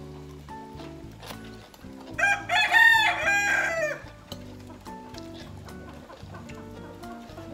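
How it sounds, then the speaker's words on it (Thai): A rooster crows loudly at a rural home, one long ringing cock-a-doodle-doo standing out over a repeating background of music-like tones and soft clucks. "ไก่บ้านนี้ก็ขันเสียงดังเนาะ"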